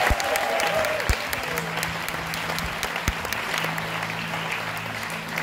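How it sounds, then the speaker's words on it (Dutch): An audience at a Groningen cultural prize nomination event applauds two performers, Martin and Peter, with steady, dense clapping that fills the whole stretch. A faint sustained tone and a few louder individual claps stand out within the crowd. "Mag ik daar een applaus, dames en heren, voor Martin en Peter."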